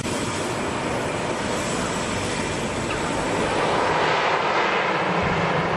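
Airplane at Lukla Airport, a loud continuous engine roar with a broad wash of noise that builds slightly toward the end, no voices.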